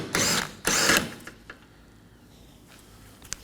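A power ratchet with a 15mm socket backs out a fastener on the wiper cowl panel of a 2014-2023 Ford Transit Connect 2.5L, two short loud whirring bursts, then faint ticks and quiet.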